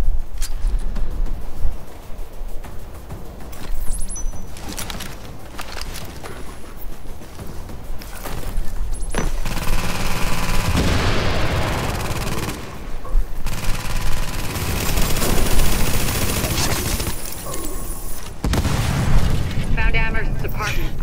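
Loud video game gunfire with bursts of shooting and booming explosions, dense and continuous through most of the stretch, with a voice talking over it.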